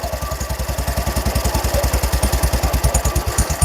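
A small engine idles very low and rough, its loping, evenly spaced chugs sounding close and loud as it runs on the edge of stalling.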